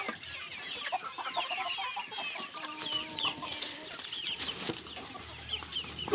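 Chickens at a small village poultry farm cluck and chatter continuously at moderate distance, with overlapping calls, occasional wing flaps and low background noise.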